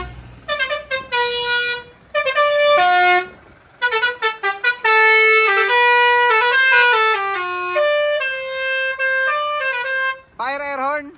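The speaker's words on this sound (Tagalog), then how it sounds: "Fire air horn." Loud, blaring truck air horns sound in repeated bursts and long blasts with shifting pitches, close by, ending in a short wavering horn tone, during a sound check of a traditional truck unit from Leyte.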